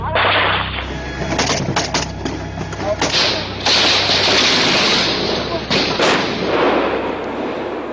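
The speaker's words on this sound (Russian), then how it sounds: "беспорядочная стрельба на данный момент" Random gunfire during a military assault on a city in the 2008 war, loud irregular bursts of shots and heavy booming thuds cracking close by in rapid succession, with voices speaking underneath.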